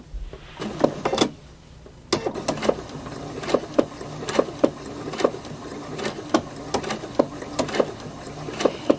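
A sewing machine stitches slowly along the edge of fabric pieces for a Drunkard's Path quilt block. A short burst of stitching comes first, then a pause, then a steady run of close, rhythmic mechanical clicks.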